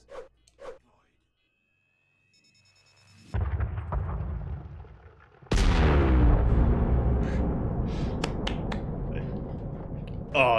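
Mining charges detonate on an asteroid in a space video game: a small click and faint chirps, then a rumbling blast, then a second much louder explosion that lingers as a long, crackling roar.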